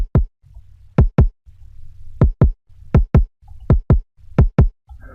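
Layered kick drum samples, a snappy layer and an octave-up layer stacked on the same kick, thumping in a steady repeating pattern of paired hits over a low bass pulse, punchy and bright with no talking.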